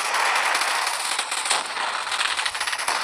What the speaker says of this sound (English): I hear explosions. Who's shooting?